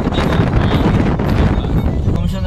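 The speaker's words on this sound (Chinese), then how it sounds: "外面还刮大风呢" Strong wind buffets outdoors near a Han-style gateway at a scenic site in Urumqi, a loud, steady rumbling roar that batters the microphone throughout.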